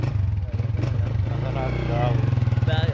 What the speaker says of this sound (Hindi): बाइक पे बैठ के अभी हम लोग आगे चलते हैं